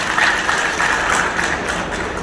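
Audience applauding at a graduates' MLC voter gathering in Satya Convention function hall, Kamareddy district; a steady wash of dense clapping lasting a couple of seconds, fairly loud and fairly near.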